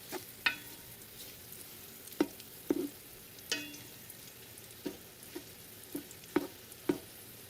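Food stirred in a cooking video game, heard as about a dozen sharp, clicky stirring effects that land at uneven intervals over a faint, quiet background.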